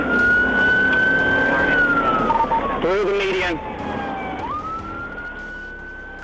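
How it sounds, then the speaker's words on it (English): A police car siren wails loudly through a dashcam pursuit: a long sustained tone that bends down and back up, with engine and road noise beneath and someone speaking briefly over it. "The moment lights and sirens came on"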